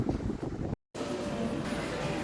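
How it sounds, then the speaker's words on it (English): Steady low rumbling wind buffeting the microphone outdoors in the UK in May, with a brief dropout of silence partway through. "A little windy, not too cold, brisk, but nothing unmanageable."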